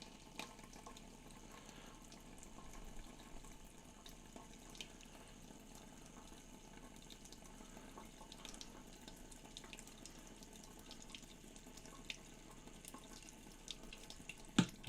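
A faucet runs pink RV antifreeze through a fifth-wheel trailer's plumbing steadily at low volume for a long stretch, a thin continuous flow of liquid with occasional small clicks.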